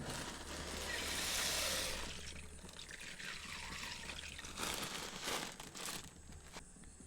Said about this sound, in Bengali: এরপর ওই একই কড়াইতে দিয়ে দিচ্ছি আরও কিছুটা জল।